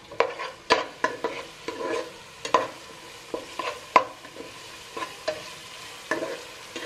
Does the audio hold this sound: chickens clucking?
no